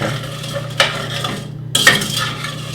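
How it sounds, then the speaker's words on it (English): Blueberry sauce stirred in a pot, with a few clinks and scrapes of a spoon against the metal over a low steady hum, close and fairly quiet. "you do want to stir it pretty frequently so that all the blueberries get cooked at the same time"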